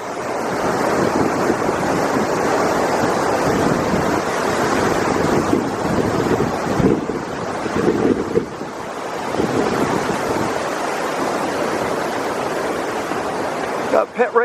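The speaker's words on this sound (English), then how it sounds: "the downstream part of Boulder Creek. It's really high right now because of the snow melt" Rushing high water of Boulder Creek swollen by snow melt in Eldorado Canyon, Colorado, a steady broadband roar close by, continuous throughout with some wind buffeting on the microphone.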